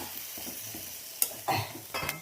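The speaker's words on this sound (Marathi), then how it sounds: "भरताचं वांग्याची फोडणी वगैरे देऊन झालंय" Brinjal bharta tempering with onion and masala sizzles in a pan, a steady low frying hiss broken by a few sharp stirring scrapes and clinks near the end, with no voices.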